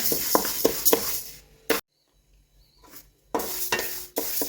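Urad dal and chana dal rattle and scrape in a dry pan while being stirred and roasted, in short gritty bursts broken by a silent pause before the scraping starts again.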